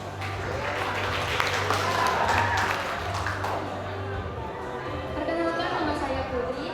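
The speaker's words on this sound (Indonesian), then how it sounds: "dengan tepuk tangan yang meriah" Audience applause at a school graduation and farewell ceremony welcoming a student speaker, moderate clapping mixed with crowd chatter in a hall, with a low hum underneath.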